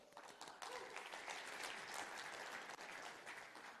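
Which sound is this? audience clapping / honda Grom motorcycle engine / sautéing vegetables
audience clapping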